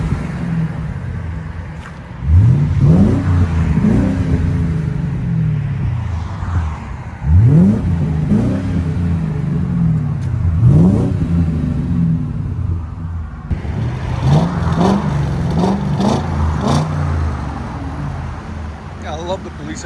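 A 2008 Ford Crown Victoria Police Interceptor's 4.6L V8 with true dual straight pipes and a Carven TR-Series muffler revs up loudly several times, deep and burbling, rising and falling in rhythmic pulses with a throaty rumble between each.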